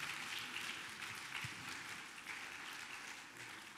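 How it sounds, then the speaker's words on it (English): Steady applause from a church congregation at a Seventh-day Adventist evangelistic service in Miami, a soft, even roar of many hands heard from a distance. "If you had a great time today, give a round of applause."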